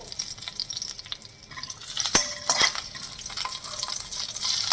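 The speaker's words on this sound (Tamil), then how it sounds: "கேஷ்யூஸ் எல்லாம் ரோஸ்ட் ஆகி கொஞ்சம் லைட் ப்ரௌன் கலரில் ஆகிடுச்சு" Cashews and cumin seeds fry in hot oil in a pan, giving a soft, steady sizzle and crackle with a few light scrapes of a spoon, close by and without speech.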